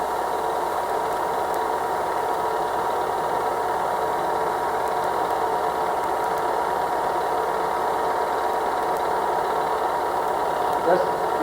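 A vehicle engine drones steadily from inside while driving past grape farms, with a constant mid-pitched hum and vibration throughout and no clear change in pace.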